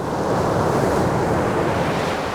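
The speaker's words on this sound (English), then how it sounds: "The sound of the waves that lap at the shores of the Arctic" Arctic Ocean waves lap steadily at the shore, a continuous close wash of surf with some wind rumble and no voices.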